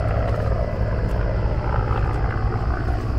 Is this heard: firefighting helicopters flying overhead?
yes